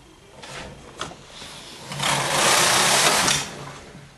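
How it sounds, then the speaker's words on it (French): A Brother or Erka domestic knitting machine carriage is pushed across the needle bed for the first row of 1x1 rib, a few light clicks followed by a rising mechanical whir and rattle as it slides across, then fading. "on va passer le chariot pour le premier rang"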